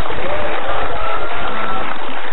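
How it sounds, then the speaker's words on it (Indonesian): A television studio audience applauds in a dense, continuous wash of clapping that runs evenly throughout, loud and close. "kasih tepuk tangan"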